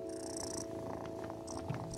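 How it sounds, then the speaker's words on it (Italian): A cat purrs in a children's animated show: a soft, steady, continuous low purr, quiet and close, with no talking. "Sembrano fusa!"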